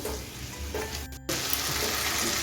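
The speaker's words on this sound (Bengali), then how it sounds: "এখন অনবরত নেড়ে চেড়ে আমি সব কিছু দু মিনিটের মতো কষিয়ে নেব" Aloo posto, potatoes with poppy seed, sautéing in a pan under continuous stirring: a loud, close, even sizzle that cuts out for a moment and then returns.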